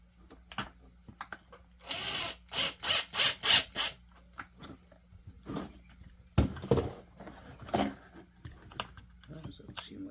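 Near the start, a power drill drives screws in a run of short, loud whirring pulses, with scattered knocks and handling noise around it and someone talking intermittently.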